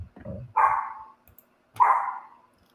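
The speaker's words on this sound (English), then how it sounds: "Sorry, my dog is barking because you said that Regulon might get injured." A dog at home gives two loud, close barks about a second apart, each with a short ringing tail, following a brief murmur at the start.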